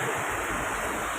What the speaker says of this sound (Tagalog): Ito yung galing sa bundok, Lods, na tubig